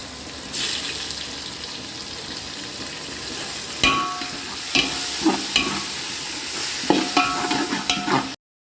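Sliced tomatoes fry in a pan, a steady sizzle starting after a short pause, punctuated by clattering stirs and scrapes of a utensil against the pan before cutting off abruptly.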